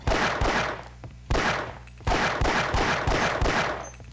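Gunfire in Opposing Force, the Half-Life video game, aimed at pit drones: several loud, close bursts of shots come in a steady rhythm with short gaps between them.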